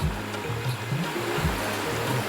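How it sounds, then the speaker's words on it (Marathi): A clear, clean river babbles and gurgles beneath an iron bridge near a waterfall in Konkan, a steady close rush of flowing water. "खलखलनाला आवाज नदीचा"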